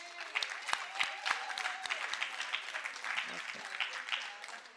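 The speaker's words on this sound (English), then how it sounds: "A round of applause again." Audience applause at the first annual Isisele Senyathi Women's Hub conference on African women's history, a moderate crowd clapping steadily for about five seconds, with a few sharper individual claps standing out near the start.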